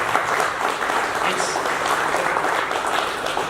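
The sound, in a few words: audience applause for Kenny Van Scoey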